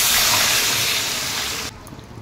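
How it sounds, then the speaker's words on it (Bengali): Water is poured into a pot of country chicken curry with potatoes, a loud, close gushing stream that runs steadily for under two seconds and then stops abruptly, leaving a faint residual sizzle. "ভালো করে কষে নিয়েছি, আমি এবার জল দিয়ে দিচ্ছি।"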